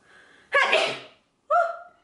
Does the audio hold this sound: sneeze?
yes